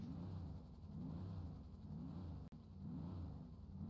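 A car in a roleplay video game accelerates with a steady, loud engine rumble and rising, revving tone, heard alone with a brief dropout partway through.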